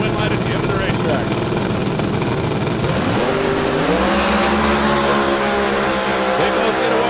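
Two red Chevrolet drag cars at an NHRA event launch off the line together, a loud roaring rush of engines climbing sharply in pitch as they pull away, with an announcer's voice over the crowd noise.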